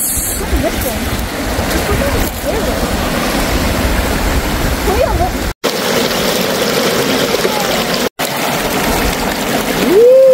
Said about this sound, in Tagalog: Sa Batis.